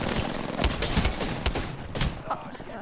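Rapid bursts of gunfire in a French-language online shooter game, dense overlapping shots under faint background speech, loud and close throughout.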